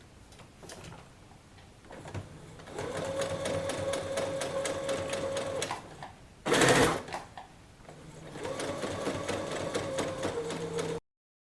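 A home sewing machine stitches a seam on a face mask sewn from pillow and sheet fabric: two steady mechanical runs of rapid, whirring stitching separated by a short, sharp clatter, close and fairly loud.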